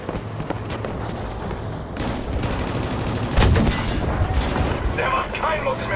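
Rapid bursts of heavy gunfire and booming tank cannon shots from a Battlefield V battle in the 1945 Rhineland, dense and loud, with a voice briefly talking in German over the noise.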